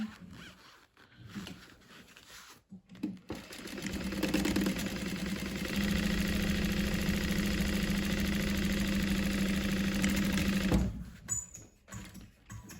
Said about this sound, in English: Now, I've actually never tried to sew foam on my domestic machine.